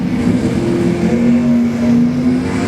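Drag racing cars launching at a Can-Am event at TMP, with a white Camaro leaving first: a loud, steady engine roar holds near and continuous throughout, with no talk.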